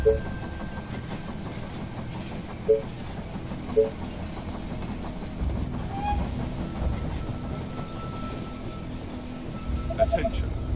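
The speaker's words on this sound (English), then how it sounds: "The train has arrived at the station." A steam train pulls into a station in the zombie strategy game They Are Billions, rumbling steadily with clacking rail noise and a few sharp clanks. Voices talk over it throughout.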